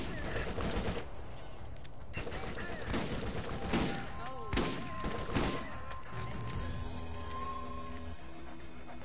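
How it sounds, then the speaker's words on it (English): An automatic turret in Borderlands fires repeated rapid bursts, loud and punchy, with gaps between volleys and other game noise layered in. "It's an automatic turret."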